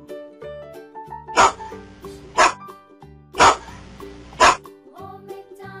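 A dog gives four sharp, separate barks in a steady rhythm, loud and close, over a soft background melody.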